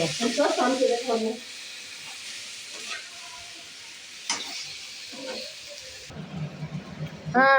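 Cooked chicken roasting in a pan for a Bangalore-style capsicum pepper chicken, giving a steady sizzle with stirring scrapes and clatter, rising louder near the end.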